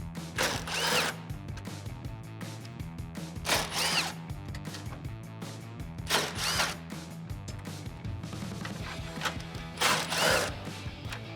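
A power tool fitted with a 10 mm socket drives out bolts on the top of the grill of a 2007-2013 Chevrolet Silverado 1500. Close, loud whirring bursts repeat about every two to three seconds, with no talk.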